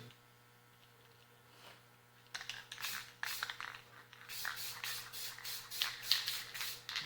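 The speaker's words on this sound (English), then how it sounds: "Just spray it over that stencil." Aerosol spray paint hissing over a stencil in short repeated bursts after a quiet start, close by.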